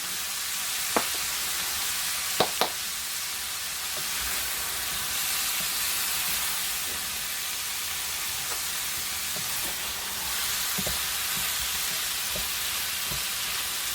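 Onions sizzling and frying steadily in a pan for tagliatelle with small vegetables, a continuous close hiss broken by a few sharp clicks and stirring scrapes, with no talking.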